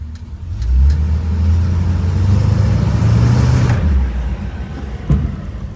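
A 1963 Buick Electra 225 engine runs loudly and steadily as it is shifted into reverse, then a single sharp clunk from the worn right front suspension cuts through near the end.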